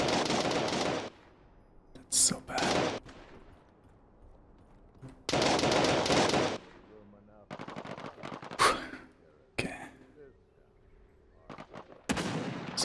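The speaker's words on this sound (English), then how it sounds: "Somebody was shooting there as well" Gunfire in the video game Realm Royale comes in several loud, dense bursts of rapid shots separated by short quiet gaps, heard close up.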